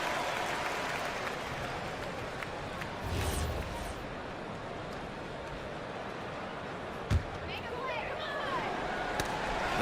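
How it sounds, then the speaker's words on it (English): Simulated arena crowd in an eBasketball video game, a steady wash of applause and murmuring noise with a few brief thumps, heard faintly behind commentator speech. "And you really can't discount the impact of this crowd here."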